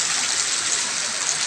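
Steady rain falling as a dense, even hiss that holds at one loudness throughout, with no voices heard.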